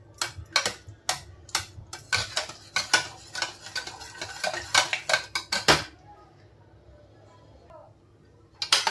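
A utensil presses garlic and mashes cooked eggplant in a metal pan for bharit, producing a rapid run of close, sharp clinks and scrapes that stops abruptly, followed by quiet and a brief final clatter.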